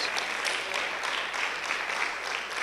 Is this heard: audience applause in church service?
yes